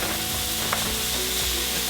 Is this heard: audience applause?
no